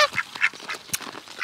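Geese honk and quack in short, close, irregular calls while being hand fed fish food beside a homestead pond.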